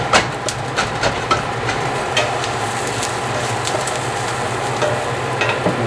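Beef stew meat browning in a pot with black pepper, a steady, loud, close sizzle with crackling pops running throughout, no talk.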